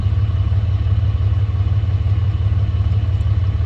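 A 2015-18 Dodge Ram 3500 with the 6.7 liter Cummins diesel idling after a fuel filter change, a loud, steady low-pitched rumble with an even mechanical clatter throughout, no talk.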